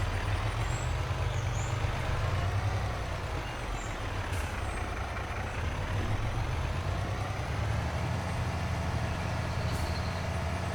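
Tractor towing a trailer in Farming Simulator 22, a steady loud diesel engine drone with low rumble holding throughout, a few faint hissing air-brake bursts on top.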